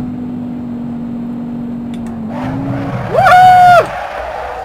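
A 1987 Pontiac Trans Am GTA engine in the Assetto Corsa racing game drones at a steady low pitch, steps up briefly, then a loud short whine rises and cuts off.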